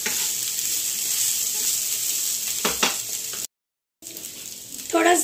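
Fried rice with soy sauce sizzles steadily in a hot pan, a continuous close hiss with brief stirring scrapes, interrupted by a short silent gap.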